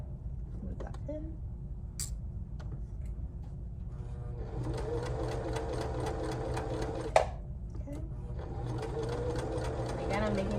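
A sewing machine stitches a waistband, its rapid even needle clatter starting and stopping in bursts at moderate distance, with quiet fabric handling in between.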